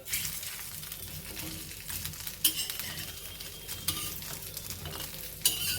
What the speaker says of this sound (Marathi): आता आपण हे पलटी करून घेऊया छान क्रिस्पी होईपर्यंत आपल्याला भाजून घ्यायचं आहे